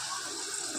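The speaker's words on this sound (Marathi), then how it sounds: "पाणी टाक." Hot water pours steadily into a pot of gravy curry, a continuous close splashing gush with no talk.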